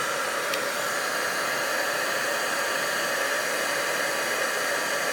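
Heat embossing tool blowing as it warms up, a steady close whooshing hiss like a small hair dryer, continuous and even with no speech.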